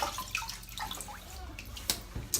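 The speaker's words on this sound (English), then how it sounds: "I'm gonna wet my face." Water is splashed onto a face before a shave, heard as soft, close wet splashes and trickles with a couple of sharper drips near the end.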